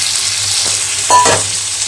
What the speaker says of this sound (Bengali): এবার যে ভাজা নুন হলুদ দিয়ে মাংসটা চিকেন সেটা দিয়ে দেবো